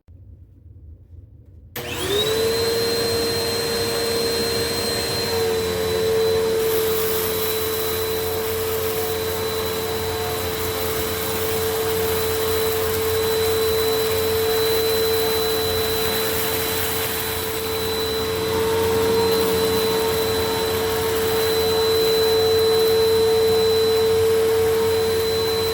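Bissell Powerforce bagged upright vacuum cleaner, model 1398/71Y7, switching on after a brief quiet moment, then a loud, steady motor whine with a high tone that drones for over twenty seconds, close by and with no talking.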